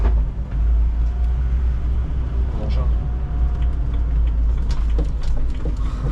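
A rental BMW rolls off on the Nürburgring, heard from inside as a steady low engine and road rumble that stays loud and even throughout, with people talking over it.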